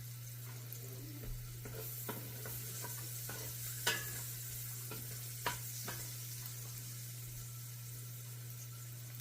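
Vegetables for beef osso buco sautéing in a pan: a soft continuous sizzle under a low steady hum, with occasional light scrapes and clicks of a spoon as they are stirred, no voices.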